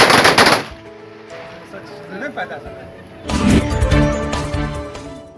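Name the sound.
ceremonial guard of honour gunfire salute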